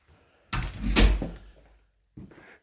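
Door in a foyer hallway opens with a soft latch click and a dull thump, then a quieter rustle or bump follows after a brief pause.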